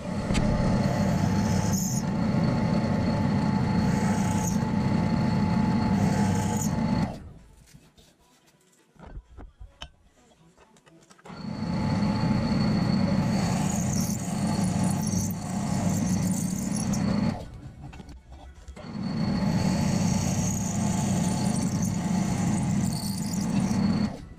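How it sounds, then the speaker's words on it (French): Steady loud grinding whine of a drill press boring holes into a metal part of a Malossi G2R kit for an MBK 51 moped, running in long stretches broken by short quiet pauses. "Donc on perce ça à la perceuse à colonne et puis c'est parti."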